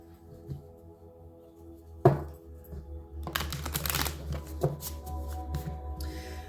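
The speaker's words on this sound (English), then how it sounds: "I'm going to shuffle them again anyway" Tarot cards being riffled and shuffled in a few quick bursts, with soft taps and slaps of the deck between them, close up and without speech.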